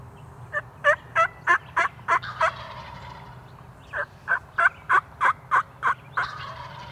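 A wild turkey tom calls from the spring timber in two quick bursts of about eight sharp, evenly spaced notes each, separated by a short pause. The calls are fairly close and clear over a soft outdoor hum, with no talk.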